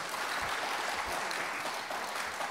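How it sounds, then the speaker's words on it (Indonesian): Applause from an audience at an Indonesian parliamentary working meeting, a steady, fairly faint wash of clapping lasting the whole short stretch with no one speaking over it. "tepuk tanganlah Bapak dan Ibu dulu"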